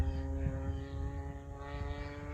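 A Hanger 9 Taylorcraft 30cc quarter-scale RC plane making a low flyby, heard as a faint, steady buzzing gas engine drone with a constant pitch across the short stretch, no voices.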